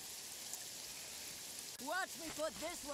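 Steady rain hiss in the video game Jagged Alliance 3, a constant broadband wash that runs throughout, with a voice talking over it in the second half.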